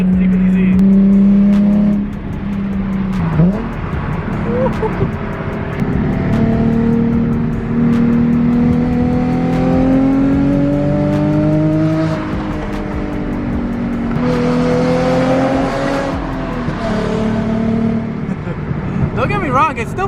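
A Nissan 350Z with a loud aftermarket exhaust drones and revs nearby, its raspy tone rising and falling in pitch as the engine climbs.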